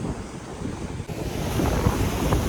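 Rough sea surf and strong wind on the coast, a loud steady roar of crashing waves with heavy wind buffeting the microphone, building louder partway through, and no voices.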